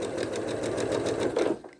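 A sewing machine hums steadily at close range while free-motion quilting a 14 x 14 inch poppy pillow, its rapid needle rhythm running evenly before stopping abruptly near the end.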